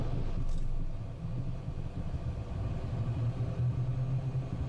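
An aircraft engine at takeoff power during a takeoff roll, heard from inside as a steady, muffled low rumble with a dull broadband roar, moderately quiet and without speech.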